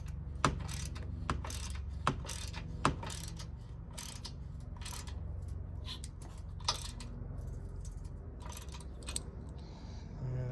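Ratchet wrench cranking down a bolt while fitting tow hooks to an early-2000s Ford Explorer, heard as scattered sharp clicks and metallic ticks over a steady low hum, fairly quiet and close.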